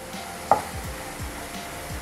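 Cluster beans frying in a pan at home, a low soft sizzle with a couple of sharp clinks of a utensil against the pan, close and fairly quiet.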